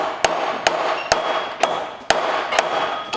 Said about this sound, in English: a chisel with my sledge and see if going right at the edge of the nut I can bust it loose